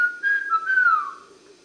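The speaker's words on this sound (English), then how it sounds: "so he's whistling Andy Griffith" Whistling of the Andy Griffith Show theme tune from a 1978 Mego 2-XL educational robot toy, a single clear melodic phrase of steady and gliding notes, fairly close and alone with no talk.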